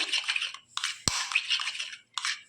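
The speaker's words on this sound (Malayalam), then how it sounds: "ഇപ്പം ടീസ്പൂൺ ആയതുകൊണ്ടാണ് നമുക്ക് കുറച്ച് കൂടുതൽ നേരത്തെ ഇളക്കി കൊടുക്കേണ്ടി വന്നു" Scraping, clicking strokes of a teaspoon beating butter in a bowl, in uneven bursts with short pauses and one sharp knock.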